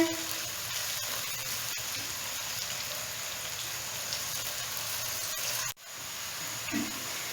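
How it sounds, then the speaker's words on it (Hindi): Onions sauté in a pan over medium-high heat, producing a soft continuous sizzle with a few faint clicks and a brief dropout near the end. "बस हल्का सा हम इसको सौते करेंगे। फ्लेम को आपने मीडियम टू हाई रखना है।"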